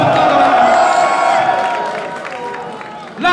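Crowd at a French rap battle applauding and cheering, a dense, loud burst of clapping and whoops that gradually fades, with a fresh rise of noise right at the end.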